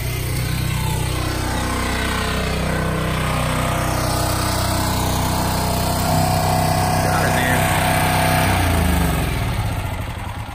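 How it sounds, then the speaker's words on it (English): A small generator engine running a firewood conveyor drones steadily and loudly nearby, its pitch wavering slightly, then it begins to wind down near the end. "Let's kill the switch to the conveyor and then the generator"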